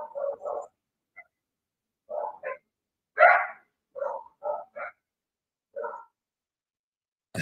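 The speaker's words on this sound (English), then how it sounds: "Woof." A dog barking in short, clear bursts, about a dozen single and paired barks spaced irregularly with silent gaps between them, close and fairly loud.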